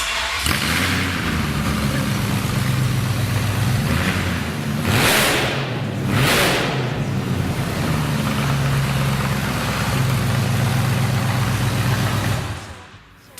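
A BMW 840Ci E31 engine idles loudly and steadily with no exhaust fitted, a raw, unmuffled rumble, briefly swelling twice, then cuts off at the end.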